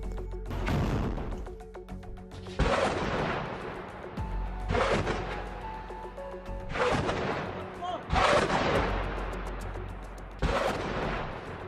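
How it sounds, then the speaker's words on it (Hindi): Repeated loud blasts from a Hezbollah anti-tank guided missile attack on an Israeli army post, five sharp explosions spaced a few seconds apart, each with a ringing decay, while a voice talks over them. "हिजबुल्लाह का कहना है कि उसने यहां पर एंटी टैंक गाइडेड मिसाइलों से हमला किया है"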